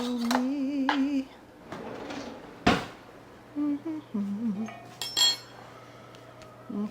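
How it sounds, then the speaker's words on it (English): Metal spoon grabbed from a cutlery drawer in a kitchen while making cheesy garlic biscuits, a few sharp clinks and rattles, one loud, scattered among softer handling sounds and brief voice-like tones. "Gotta grab a spoon."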